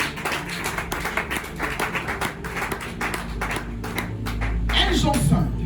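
Congregation at a French-language church deliverance seminar clapping and cheering, a loud, dense crowd response with scattered claps building and swelling toward the end, voices mixed in.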